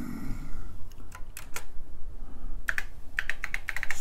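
Keys clack on a vintage TRS-80 Model I computer keyboard in short bursts of close, crisp presses, a few scattered strokes and then a quicker run.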